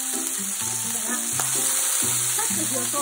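Pork sizzles and spits steadily in a hot frying pan, browned quickly on the surface for a miso-simmered dish with konjac, a loud continuous hiss with no talking.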